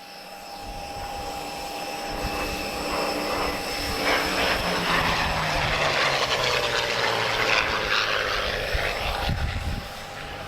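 A Supermarine Spitfire flies at an airshow, its engine drone rising in a steady roar that peaks and sweeps in pitch as it passes, with a constant high whine over the top.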